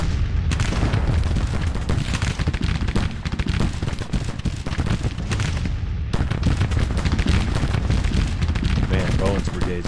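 Musket volley fire in a Grand Tactician: Civil War battle rolls on continuously, with dense overlapping rifle cracks and booms, a brief lull, then renewed heavy firing at close range.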